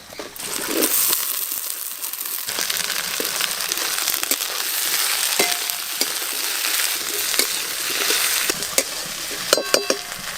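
Chopped okra fries over onions in a clay pot, giving a loud, dense sizzle with scraping stirs and crackles that run steadily, close up and without talk.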